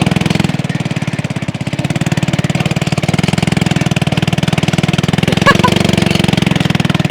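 A homemade motorbike built from scrap parts runs with a steady, loud, rapid engine chatter while being ridden, holding an even beat throughout with a brief higher rattle near the end.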